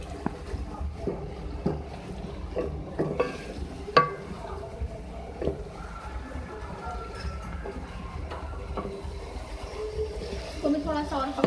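Tomatoes cooking in chicken curry in a pan, with a low, steady simmer and sizzle under intermittent scraping and clacking of a stirring spoon, the taps spaced irregularly and moderately close.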